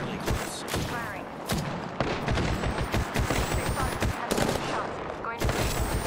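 Repeated gunfire in Apex Legends, a battle royale game: sharp broadband shots in bursts across the stretch, loud and close, with some speech-like sound under the shooting.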